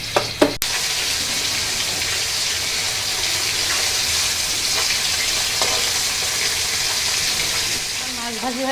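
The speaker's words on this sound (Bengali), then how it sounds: "এইভাবে প্রত্যেকটি মাছ আমি ভাজবো" Koi fish fry in hot oil in a pan, giving a steady, loud, continuous sizzle with crackling and occasional stirring clatter, a few sharp knocks near the start.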